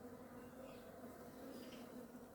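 Steady, continuous honeybee buzzing at a hive in an apiary, humming evenly throughout at moderate level with no voices.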